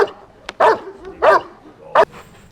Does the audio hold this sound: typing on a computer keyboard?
no